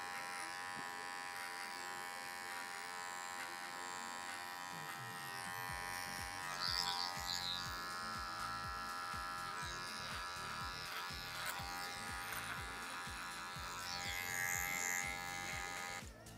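Hair clipper buzzing steadily through a curly crop top haircut, a loud continuous electric hum with small shifts in pitch as the blade angle changes, no talking over it.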